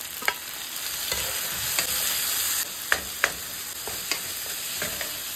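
A small tomato sizzles steadily in a pan with onion and salt for egg drop curry, a continuous close frying hiss broken by scattered light clicks and scrapes of stirring.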